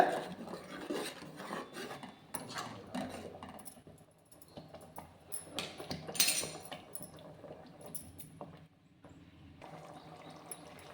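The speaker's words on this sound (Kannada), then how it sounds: "ಇದನ್ನು ನೀಟಾಗಿ ಇದರಲ್ಲೇ ಮಿಕ್ಸ್ ಮಾಡ್ಕೊಂಬಿಡೋಣ" Hyacinth bean masala is stirred in a pan, with a spoon scraping and clinking against the metal in an irregular, fairly quiet run of strokes that thins out toward the end.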